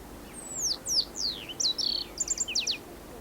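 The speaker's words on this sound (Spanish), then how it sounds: "Algunas especies de aves merodeaban entre las ramas de los arbustos" Birds in bushes near a park ranger station in El Chaltén, a series of clear descending whistled chirps followed by rapid trilled notes, close and distinct over quiet background with no talking.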